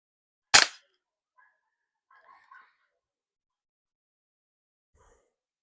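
A single sharp crack from a full metal CO2 airsoft revolver firing, loud and close, followed by a few faint clicks and soft handling noises in otherwise near silence.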